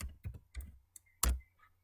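Typing on a computer keyboard while entering a command in the Windows command prompt: a few scattered clicks and short bursts of keystrokes, close and fairly quiet, with one louder clack near the end.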